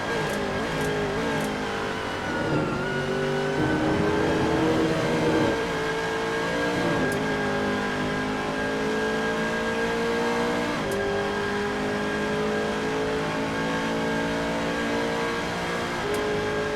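Bentley race car on board at Monza in a racing game, engine droning loud and close with steady harmonic whine, gear shifts and revs rising and dipping throughout.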